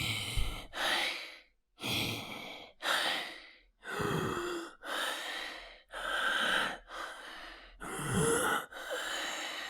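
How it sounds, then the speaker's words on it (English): Deliberate breaths performed for game sound effects: about nine heavy inhales and exhales in a steady alternating rhythm, close and loud, some ending in sigh-like gasps, with no talking. "let's record some breathing"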